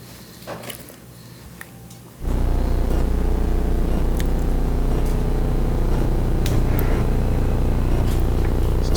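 A DCS stove gas burner with a lighting fault catches suddenly after a quiet moment with a few faint clicks, then burns as a big flame with a loud, steady roar that holds to the end.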